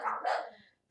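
A dog barks once at close range, a short, sharp bark with a quick follow-up yelp, set off by neighbors arriving home.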